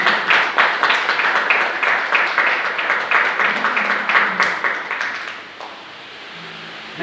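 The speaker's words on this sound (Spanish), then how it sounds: "Dale un aplauso al que vive." A church congregation claps in a rhythmic, unison beat for several seconds during a sermon, then the clapping stops and the room settles into quieter murmuring.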